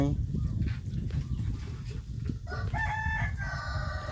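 Chickens cluck and a rooster crows loudly and clearly near the end, over a constant low rumble of background noise and indistinct voices.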